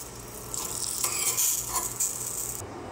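Aloo palak paratha fries in ghee on a hot pan, a bright continuous sizzle and crackle with a few soft scraping touches, close and steady until it drops away near the end.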